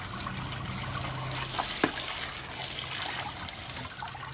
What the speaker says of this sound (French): Donc là, ce que je fais, je les rince.